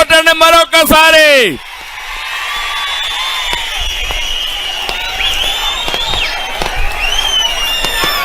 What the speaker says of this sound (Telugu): మేము సిద్ధమని గట్టిగా చప్పట్లు కొట్టండి మరొకసారి